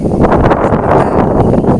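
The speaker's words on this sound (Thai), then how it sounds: "ตอนนี้ลมแรงมากเลยค่ะ" Strong, dry morning wind at an open rural spot buffets the microphone with a steady, loud, continuous rush and rustle for the whole stretch, with no voices.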